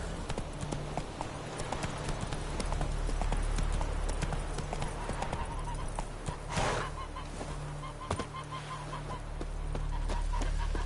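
Roach, a horse in The Witcher 3, gallops with steady rapid hoofbeats over a continuous low game ambience, with a brief louder burst midway and faint bird-like calls in the background.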